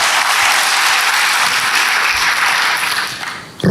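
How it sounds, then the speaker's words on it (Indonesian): A church congregation at an Ascension service giving a big round of applause, dense sustained clapping across the room that thins out near the end with a sharp knock at the close. "Berikan tepuk tangan hebat bagi dia."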